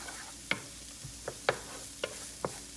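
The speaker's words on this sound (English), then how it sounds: "and then I'm going to add my sausage" Sausage fries with onions and garlic in a skillet under a gentle, continuous sizzle, while a utensil taps and stirs the pan in a series of light, evenly spaced clicks.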